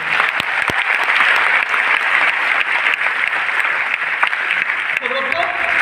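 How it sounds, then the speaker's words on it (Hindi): Loud, dense audience applause at a motivational income seminar, continuous clapping that carries on steadily before tapering near the end, with some voices mixed in. "जोरदार तालियां तो होना चाहिए"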